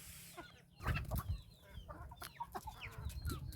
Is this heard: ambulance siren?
no